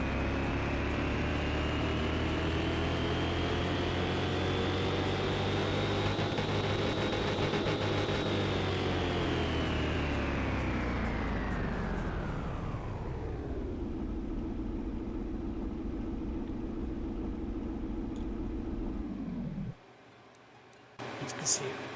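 A car engine in the video game Car Mechanic Simulator 2021 runs loud and steady, its revs sagging and fading to a lower idle partway through before cutting off near the end.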